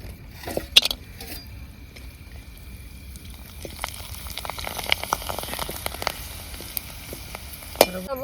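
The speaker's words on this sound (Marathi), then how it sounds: "बॉब्या तळून झाल्या" Bombil fish frying in hot oil, a continuous crackling sizzle with scattered pops and sharp clinks of utensils, close and steady with no talk.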